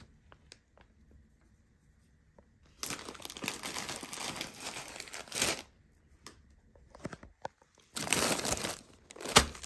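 Plastic bags of walnuts, almonds, hazelnuts and pistachios are handled and opened, giving quiet rustles, then loud, sustained crinkling bursts in two main stretches with scattered small crackles between them.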